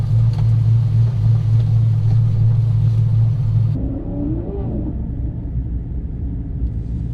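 A rally car at the Redwood Rally in Samoa revs with a loud, steady low engine rumble that cuts off abruptly partway through. A quieter, lower drone and a rising whine follow, and no one talks.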